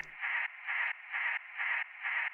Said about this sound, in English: Kind of just sounds like white noise, basically, panning between the two ears